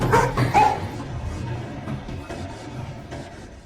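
A dog barks during a movie chase scene as a collector pursues intruders through a house with it, a few loud close barks and yips early on, then trailing off into rumbling background noise.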